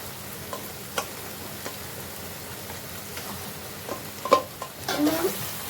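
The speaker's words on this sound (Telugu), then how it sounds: "ఇప్పుడు ఇందులో నుంచి ఆయిల్ సపరేట్ అయ్యేంత వరకు కొంచెం సేపు కుక్ చేసుకోవాలి. ఇందులో ఇప్పుడు మనం మ్యారినేటెడ్ మటన్ వేసేసుకున్నాం." Marinated mutton cooks in oil in a clay pot, a low steady sizzle with scattered soft clicks and a louder stirring burst toward the end.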